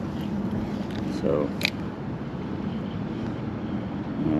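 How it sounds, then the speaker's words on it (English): Steady wind buffets the microphone out on the water during kayak fishing for snook in Florida in winter, a constant roar with a brief clatter midway and a single spoken word. "this wind is going to absolutely destroy us today"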